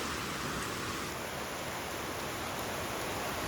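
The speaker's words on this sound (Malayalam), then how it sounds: "ഇപ്പം വമ്പ മഴ എന്ന് വെച്ചാൽ വമ്പ മഴ" Heavy monsoon rain pouring down in Kerala, a dense, even roar of water on surfaces that stays loud and unbroken throughout, no voices.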